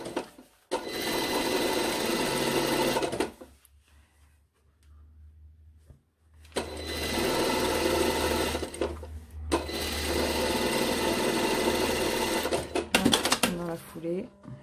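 A sewing machine stitches a lined cranberry jacket in long, loud, steady whirring runs close by, pausing briefly between bursts while a person speaks softly over the quieter stretches.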